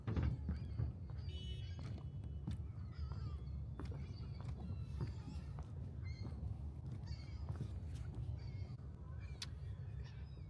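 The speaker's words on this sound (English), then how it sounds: "You see we have some birds here ready to greet us." Crow-like birds caw in scattered calls on a foggy morning walk outdoors, set against a constant low background rumble.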